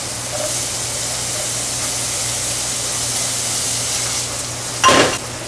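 Shallots cook gently in a pan, giving a soft, steady sizzle that holds throughout, with a brief louder burst of hiss near the end and no talking.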